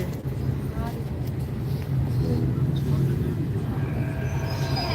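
A metro train on the pink line rumbles steadily along its track with a low, continuous roll and faint wheel squeals, while people talk over it.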